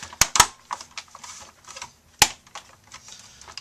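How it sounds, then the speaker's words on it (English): Plastic parts of a Toshiba Satellite laptop snap back into place during reassembly, a few sharp, close clicks spaced irregularly over a quiet background with small handling taps between them. "Now we're just going to click this back down in"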